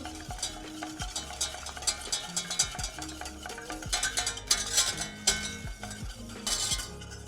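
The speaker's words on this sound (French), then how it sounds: "on va venir mettre notre mélange de sucre et de pectine, on mélange bien" A spoon stirring a simmering fruit mixture of sugar and pectin in a pot, with rhythmic scraping and clinks against the pan over a soft bubbling sizzle.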